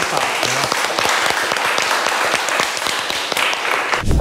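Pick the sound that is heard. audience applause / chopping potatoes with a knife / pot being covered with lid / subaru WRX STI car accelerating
audience applause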